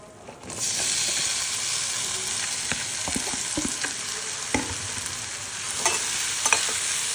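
Raw mango pieces dropped into a hot pan with red chili powder burst into a loud, steady frying hiss, with occasional stirring clicks and scrapes running underneath.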